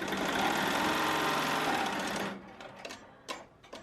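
A Melco Summit embroidery machine stitches glitter onto a varsity jacket with a fast, steady mechanical chatter for about two seconds, then stops, leaving a few faint clicks and handling knocks.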